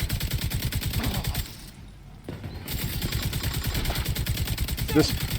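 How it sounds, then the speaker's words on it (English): Rapid automatic gunfire in The Division 2, a steady stream of shots near and loud with a brief lull midway, then firing resumes through to the end. "I'm shooting his turret because I had other targets marked."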